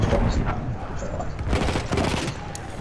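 Enemy gunfire in Battlefield 1 rattles as dense, overlapping bursts of automatic shots and booming impacts, loud and continuous throughout, with chaotic battlefield noise behind it.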